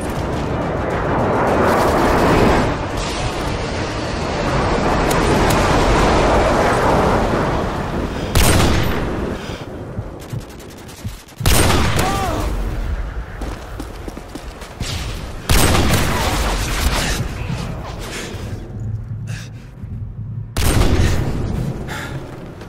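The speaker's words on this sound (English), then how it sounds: "Airstrike inbound." Video game airstrike: a prolonged roaring barrage of explosions, followed by several separate heavy blasts spaced a few seconds apart, loud and close, each trailing off into rumble and debris.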